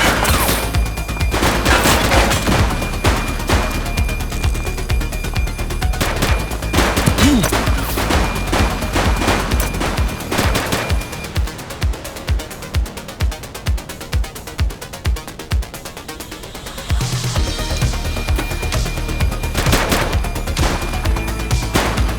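Gunfire in The Precinct, a police game set in the 1980s: sustained, loud, overlapping shots and rapid bursts forming a dense fusillade. A steadier run of individual shots falls in the middle, with no talk heard.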